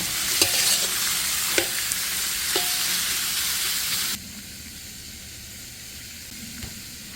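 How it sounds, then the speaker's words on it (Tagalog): Pork belly sautés until brown for Ilokano igado, a loud steady sizzle broken by a few sharp stirring scrapes, then the frying drops abruptly to a much quieter simmer partway through. "Sasangkutsahin natin ito hanggang sa bumango at mag-brown."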